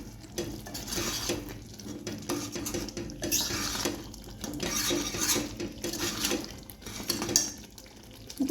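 Bellulli karibevina soppu gojju, a garlic and curry leaf dish, being stirred with a spoon in a cooking pot, producing repeated close scraping and clinking strokes with wet sloshing, alone without talk.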